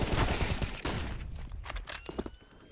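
Gunfire in the video game Counter-Strike (CSGO) during an ESEA match, a rapid burst of shots up front, then scattered single cracks and footsteps fading out.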